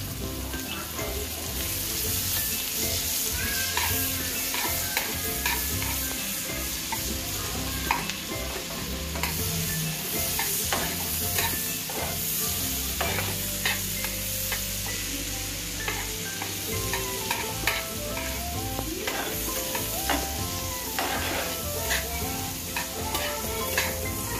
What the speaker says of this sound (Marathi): आता आपण यात याच बटरमध्ये कांदा भाजून घेणार आहोत